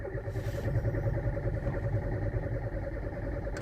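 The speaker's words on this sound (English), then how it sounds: "If I will crank the engine, look at the RPM" A car engine turns over steadily under the starter without firing, a continuous low churning drone lasting the whole stretch, close and loud, with no catch or rise into idle.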